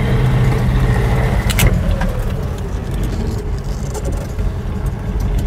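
Restored GAZ-24 Volga sedan pulling away from a stop, a close, steady low engine drone with a few light clicks and rattles over it, no talk.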